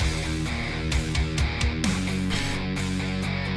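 Sampled rock drums drive a full, dense song mix, with steady kick and snare hits and crash-cymbal washes sitting under sustained layered instruments, loud and continuous.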